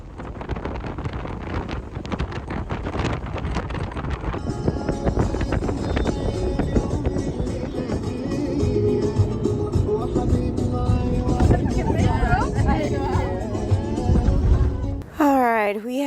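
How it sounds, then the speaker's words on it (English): Off-road 4x4 driving on a desert tour near the Siwa Oasis in Egypt, with steady loud rumble and wind buffeting the microphone throughout, close and constant, ending in a brief different burst. "finally time to start the 4x4 desert tour"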